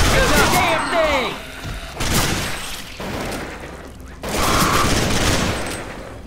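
Gunfire in Left 4 Dead 2 as AI bots blast away at a Charger, with repeated loud bursts of shots and booms separated by short pauses, mixed with voices.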